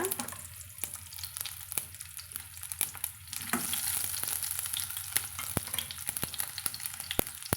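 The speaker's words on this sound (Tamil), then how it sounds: "கடுகு நல்லா பொரிஞ்சதும் கொஞ்சமாக சின்ன வெங்காயம் வந்து சேர்த்துக்கலாங்க" Shallots frying with mustard seeds in hot oil for a bottle gourd kara kuzhambu, a steady close sizzle with scattered sharp pops and crackles throughout, no voices.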